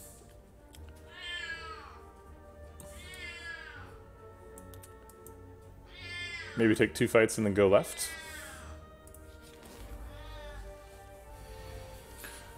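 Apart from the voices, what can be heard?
cat meowing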